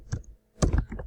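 Computer keyboard keys pressed for a copy shortcut: a couple of close, soft clicks followed by a louder cluster of taps, with no talking.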